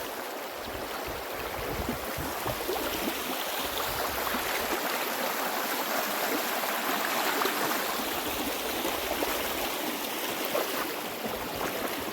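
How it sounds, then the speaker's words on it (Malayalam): Cold, steadily flowing forest stream in Mamalakandam woodland, a continuous broadband rush of running water with no talk, even in level throughout. "ചെറുതായിട്ട് നല്ല ഒഴുക്കുള്ള വെള്ളമാണ്"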